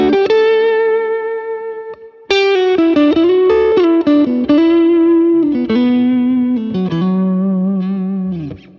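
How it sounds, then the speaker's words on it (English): Electric guitar fed through a long plate reverb pedal, ringing held notes and short melodic runs with a lush, lingering wash, no voices. "I just switch that to a long, I think it's a long plate, and that sounds like this."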